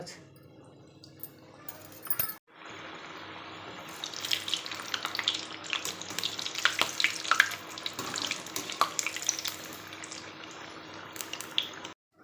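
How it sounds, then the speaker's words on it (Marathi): Shankarpali, a Maharashtrian village-style sweet snack, fries in hot oil with a busy bubbling sizzle, quiet at first and then swelling into steady crackling with sharp pops. "झाले तेल गरम आता तळून घेऊ"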